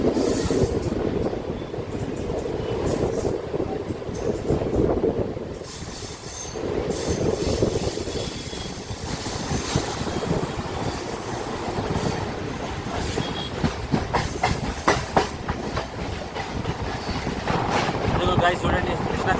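A MEMU local train runs between Kazipet and Chennai, with steady rumbling wheel and carriage noise, a few squeals and clacks, and loud continuous rail sound throughout. Voices can be heard under it.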